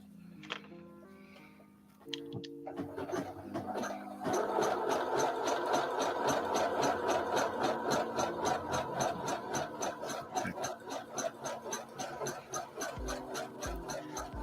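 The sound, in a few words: sewing machine stitching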